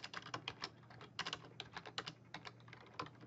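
Rapid, uneven clicks of typing on a computer keyboard, close and fairly quiet, with no talk over them.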